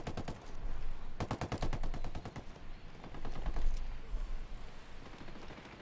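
Rapid bursts of automatic gunfire in the video game Ghost Recon Wildlands rattle in quick succession, loud and close, with short pauses between volleys and a few scattered single shots.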